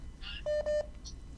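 Telephone keypad dialing: two clear, evenly spaced touch-tone beeps in quick succession over a quiet background, with faint softer electronic tones around them.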